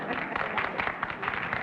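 Studio audience applause on a television panel game show, a soft, steady patter of many hands clapping at a distance, unbroken for the whole stretch.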